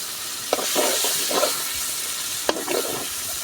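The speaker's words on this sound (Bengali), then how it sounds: "কিছুক্ষণ লাড়িয়ে নিতে হবে।" Tengra fish being stirred in a hot pan, with a soft frying sizzle throughout and a few sharp scrapes of the utensil against the pan.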